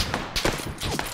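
Rapid bursts of automatic gunfire in the battle royale game PUBG: Battlegrounds, several sharp shots in quick succession over about a second, close and loud.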